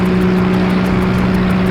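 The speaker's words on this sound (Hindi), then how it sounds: "ये कोई मोटर बोट की आवाज है" Motorboat engine running at a constant speed, a loud steady hum with a strong low tone and a faint rhythmic pulsing throughout, with no voices over it.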